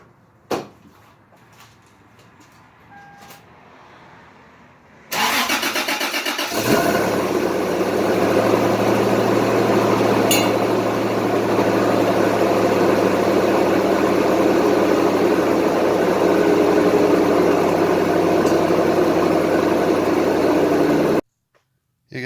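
A Toyota Tacoma 5VZ V6 with a 3-inch stainless exhaust starts up after quiet handling noises, then settles into a loud, steady idle rumble that runs for about fifteen seconds before cutting off abruptly.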